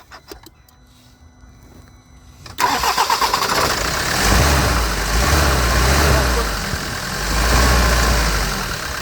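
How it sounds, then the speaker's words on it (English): After a quiet start with faint background noise, a car engine cranks and fires abruptly, then settles into a steady loud idle with rhythmic low throbbing and slight surges in level. "Stop the engine and start again."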